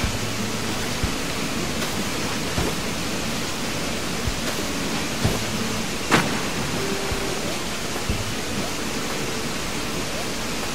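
A waterfall in the Animal Crossing video game gives a steady, even rush of falling water, with faint clicks and soft game sounds scattered over it.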